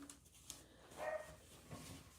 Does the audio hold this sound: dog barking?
yes